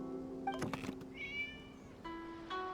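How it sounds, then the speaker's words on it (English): A cat meowing in a video game, a few short tonal mews heard faintly over a sustained musical background. "It was just a cat."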